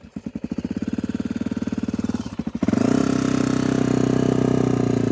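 A 26-year-old Honda XR400 four-stroke dirt bike engine chugs in slow, distinct pulses, then catches and settles into a steady, loud, close idle with a continuous throb.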